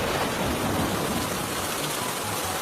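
Steady heavy rain falling outdoors, a continuous dense hiss of drops with no breaks and no voices.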